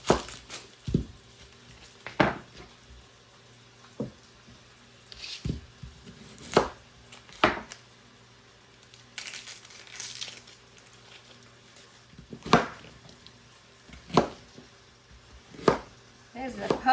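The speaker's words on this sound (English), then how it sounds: "go ahead and get this onion diced up" Onion diced with a knife for Southern-style green beans and potatoes, heard as sparse, sharp chopping knocks spread across the clip with quiet gaps and light kitchen handling between them.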